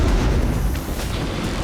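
Explosions in war-torn Ukraine make a loud, heavy booming rumble that fills the whole moment without a break.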